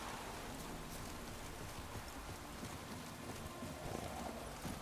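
Horse hooves in the video game The Witcher 3 clatter in a fast, continuous gallop, blended with a dense rain-like hiss that fills the whole stretch at an even level.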